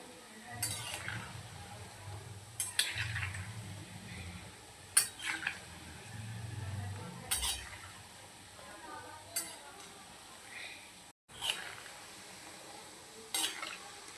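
Shankarpali frying in oil while being stirred up and down, with repeated scraping clinks of a utensil against the pan over a low bubbling sizzle, the strokes coming every second or two.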